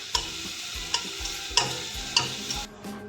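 Onions frying in a pot for mutton curry in a pressure cooker, a constant hiss of sizzling oil broken by four evenly spaced scrape-and-knock stirs of a spoon, close up, ending in a brief quieter pause.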